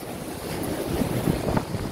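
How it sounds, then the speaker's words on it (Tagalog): Big ocean waves crash and churn along the shore in Guam, a dense roaring wash with wind buffeting the microphone, loud and continuous for a couple of seconds. "Lalaki ng alon."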